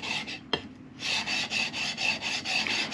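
Rhythmic rasping strokes of metal being ground on a CBN sharpening plate, a single bright scrape then about eight even back-and-forth passes, close and alone.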